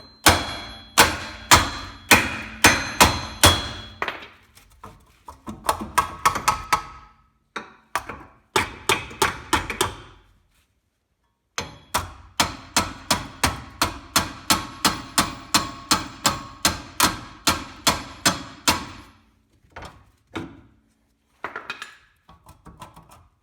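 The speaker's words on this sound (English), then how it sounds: "Give it some good hits." Someone strikes a Kia Rio rear wheel hub with a mallet, sending repeated loud, sharp metallic blows in fast steady bursts, with short pauses between the series.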